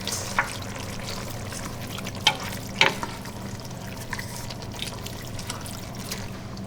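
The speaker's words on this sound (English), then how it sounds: "We kind of stir them." Sauce ingredients with chopped parsley are stirred in a pot on the stove, giving a steady wet swishing with a few sharp clinks of the spoon against the pot, close and moderately loud without talk.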